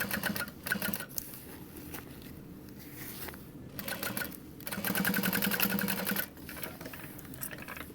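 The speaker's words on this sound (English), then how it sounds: "you're just gonna sew from end to end along that base with a 3/8" Sewing machine stitching the side seam along the base of a leather convertible backpack, with bursts of rapid, even needle clatter broken by short pauses. Fairly close and moderately quiet, with the longest run of stitching near the end.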